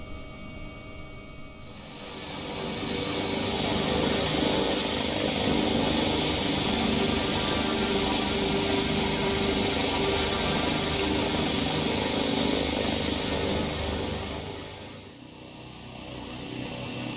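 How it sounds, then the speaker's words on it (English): A simulated helicopter in X-Plane 11 drones steadily as its rotor blades swish overhead, swelling in loudness after a couple of seconds, holding for about twelve seconds, then easing back near the end. "the music of the rotor blades swishing over your head"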